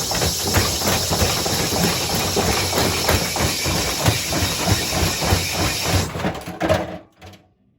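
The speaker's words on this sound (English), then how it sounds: "Okay, so I've put a brick and a motor in there." A Zanussi Essential ZWF12070W washing machine spins with a brick and a motor loaded in its drum, its suspension failing, giving a loud, continuous rumbling and banging for about six seconds before it stops abruptly into near silence.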